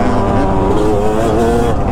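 A Yamaha YZ250 two-stroke dirt bike engine revs hard and close, its loud, steady high-rpm buzz held through the whole two seconds with no talk over it.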